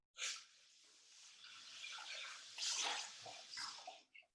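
Tap water gushes while a bullet blender cup is rinsed, a close, splashy stream that swells and dips over a few seconds before shutting off.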